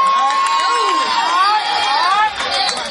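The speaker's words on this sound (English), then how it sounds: "Put your hands together." A crowd at a live Apollo stage show cheers and shouts for a performer being introduced, a loud, sustained roar of voices and yells with high whistles and cries rising above it and no gaps.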